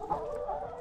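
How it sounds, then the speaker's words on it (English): Chickens in a neighbor's yard give a brief, soft burst of clucking, faint and nearby, lasting under a second. "Oh, chickens, chickens, chickens."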